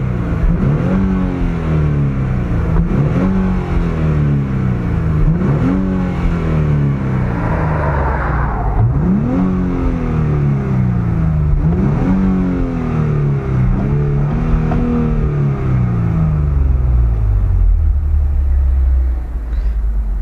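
Infiniti Q60S Turbo engine revving hard and shifting up through the gears, loud and close, with repeated rising pulls each cut by a gear change, ending in a lower steady drone.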